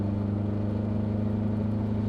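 A car engine drones steadily as the car climbs a hill, heard up close as an even, low hum with no talking.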